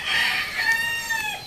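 A single pumpkin sweater stag rooster crows loudly and close up, one drawn-out call that rises and then trails off.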